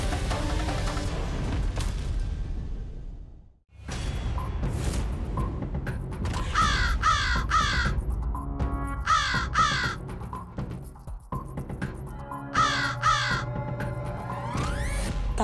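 A crow caws repeatedly in loud bursts of harsh calls, several clustered groups between about 6 and 14 seconds, over a dense background with mechanical creaks and low rumble, without any talk.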